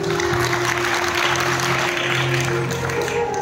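Audience clapping at a religious Sai katha discourse at Basukinath Dham, a steady, even wash of applause throughout with a faint sustained musical tone beneath it.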